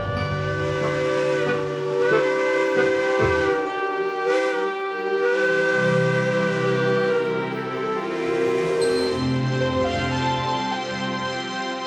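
A steam locomotive whistle sounds in a long, steady, multi-toned blast, loud and sustained, over a continuous hiss of escaping steam, with no voices.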